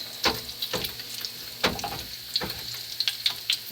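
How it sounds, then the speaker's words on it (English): Half a cup of butter melting in a pan for stuffing gives a soft, steady sizzle with scattered small pops and crackles, close and alone, with no talking. "Butter's almost done melting."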